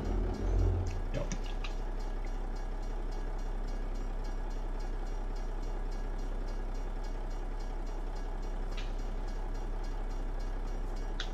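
A train rumbling past in American Truck Simulator, a long steady low roar with a heavy thump at the start and occasional clicks and clanks, loud and continuous with no talk.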